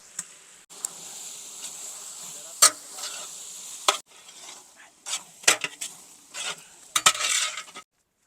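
Tomatoes and ginger paste cooking in a pan for chicken pulusu, with irregular scraping and clattering stirring strokes over a soft background sizzle, near and unaccompanied by speech.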